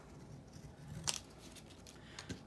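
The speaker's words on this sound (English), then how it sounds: "cut that in half." Scissors cutting a paper faux postage stamp: a quiet close-up snip with a bright metallic click of the blades, then a softer second cut, in a hushed room.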